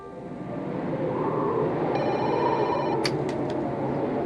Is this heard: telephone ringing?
yes